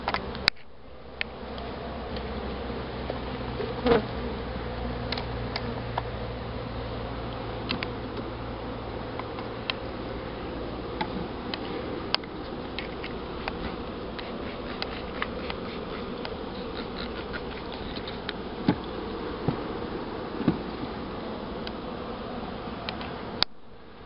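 A honeybee swarm buzzes steadily in a tree, a dense continuous drone of many insects close by with a low hum beneath it and a few faint clicks, and nobody speaks.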